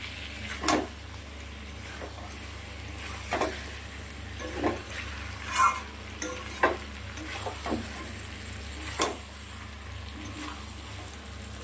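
Egg being stirred and fried in a pan, with a steady soft sizzle broken by periodic scraping strokes of a utensil roughly every second, close and moderately quiet, no talking.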